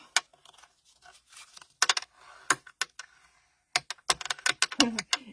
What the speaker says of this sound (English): All right, so I'm going to fold all of those up.